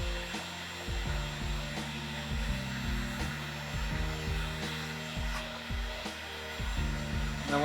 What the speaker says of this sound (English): So you got to get your heat gun.